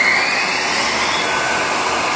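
The spindle of a 1999 Mori Seiki MV 653 50-taper four-axis CNC vertical machining center runs at 2,000 RPM, giving off a loud, steady, broadband whirring hiss close by.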